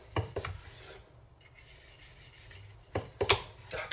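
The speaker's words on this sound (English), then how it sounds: "Can you hear that skin? It's very crispy." A knife saws through crispy seared duck breast skin in close, raspy scraping strokes, with sharp crackling bursts at the start and again near the end and quieter rubbing between them.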